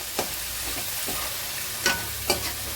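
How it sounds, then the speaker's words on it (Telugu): Poppy seeds and coriander powder fry in a pan, a soft steady sizzle with a few light scrapes of stirring, close and quiet. "ఇది బాగా కొంచెం పచ్చివాసన పోయేంత వరకు కూడా వేయించుకుందామండి."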